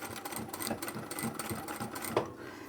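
A sewing machine triple stitching over joined webbing on a tote bag, running in a steady fast mechanical whir with rapid needle ticks, close and continuous throughout.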